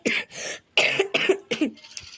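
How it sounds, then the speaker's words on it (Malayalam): A person coughs in close, sharp bursts, four or five in a row with short pauses, during a Malayalam Free Fire gaming session. "എനിക്ക് ചെറിയൊരു ചുമയൊക്കെ ഉണ്ട്"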